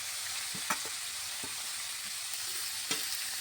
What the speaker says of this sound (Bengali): এবার ভালোভাবে আদা লঙ্কাটা একটু ভেজে নিচ্ছি